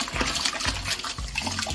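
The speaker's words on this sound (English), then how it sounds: "giving the kettle a good scrub for next time" Scrubbing a stainless brew kettle with hot water, soap and steel wool, a close, rhythmic sloshing and scraping of water against metal in repeated strokes.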